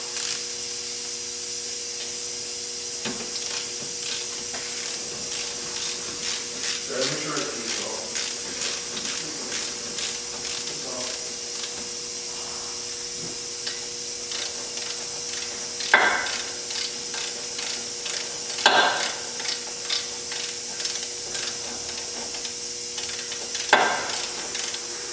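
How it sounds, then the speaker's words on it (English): Tightening the brake caliper mounting bolts on a Subaru Outback front brake: a series of brief metallic ratchet clicks and wrench taps, repeated in spaced bursts over a steady background hum in a workshop. "now we're going to tighten the caliper mounting bolts"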